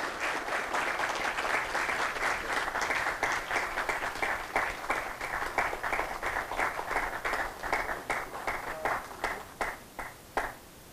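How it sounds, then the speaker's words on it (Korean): A hall audience applauds the newly appointed sixth president of Cyber Hankuk University of Foreign Studies at an inauguration ceremony, sustained crowd clapping that holds steady, then thins into scattered individual claps toward the end. "큰 박수로 신임 총장님을 축하해 주시기 바랍니다."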